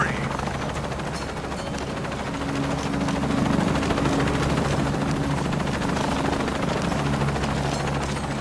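Helicopter in the video game Shadow of the Tomb Raider: a loud, close, steady rotor thrum and engine roar filling the whole stretch, rising slightly partway through.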